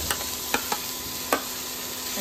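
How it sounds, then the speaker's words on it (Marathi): Onion and capsicum fry in a pan under a steady hiss, broken by a handful of sharp clicks and scrapes from stirring. "आतां घालया कॅप्सिकम आनी ती मातशी फ्राय करूया"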